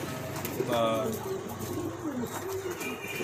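A pair of big-sized pigeons, male and female, cooing close by in soft rolling calls, with a low murmur of voices beneath.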